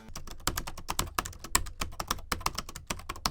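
Rapid, close typing on a cheap, mushy Temu laptop keyboard that resembles a small MacBook: a dense run of light, uneven key clicks with brief pauses, crisp and alone without talk.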